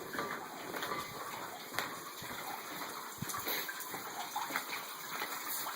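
Tap water running steadily into a 75 gallon aquarium, splashing onto an emergent stump at the tank bottom; a continuous close gush and slosh with no talk.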